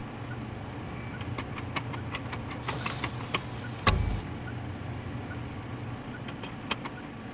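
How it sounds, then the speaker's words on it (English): A combination lock mechanism purrs in the video game I Expect You To Die: a steady low mechanical whir with regular faint ticks and one sharp clunk partway through. "The purring of a combination lock mechanism."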